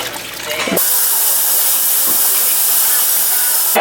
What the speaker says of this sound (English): So I'm gonna take this and dump this in the sink.